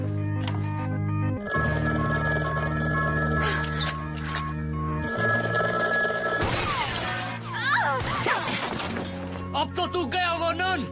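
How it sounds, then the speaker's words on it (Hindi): A telephone rings in a tense scene from the 2016 action film Free Fire, its steady bell tone repeating in long bursts while voices talk over it and a clattering crash follows. "यहाँ फोन आने का मतलब है हमारे लिए खतरा।"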